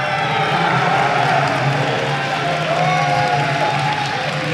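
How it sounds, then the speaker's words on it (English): A large crowd cheers loudly at a StarCraft esports event, IEM New York, a sustained roar of voices filling a big hall throughout. "I come here and I hear this kind of loud cheering."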